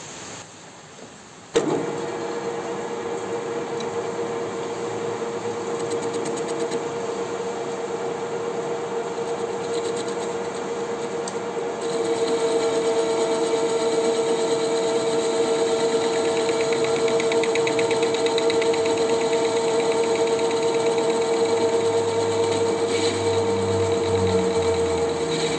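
Small lathe turning a Honda Karisma motorcycle magneto part, starting with a sharp click and then running as a steady motor whine with scraping cutting noise that grows louder partway through, alone and close.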